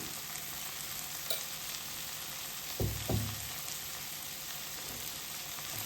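Kashmiri chili powder being stirred into softened tomatoes in a frying pan: a quiet, continuous sizzle, with a pair of brief scraping knocks from the spoon near the middle.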